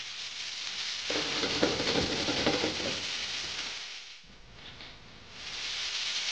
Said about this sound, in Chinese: 撒上少许葱粒，下锅滑油，让鸭蛋清紧紧附着在鱼肉表面。